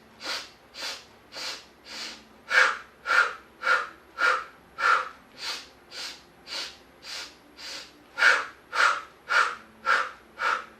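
Rhythmic breathing during the Pilates hundred exercise, about eighteen even, loud breath pulses, short inhales and exhales at a steady count, close to the mic with no talking.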